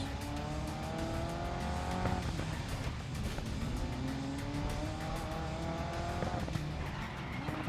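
Race cars on a track in the racing video game Grid Legends, engines whining and revving through gear shifts with tire squeal, a busy continuous mechanical roar without speech.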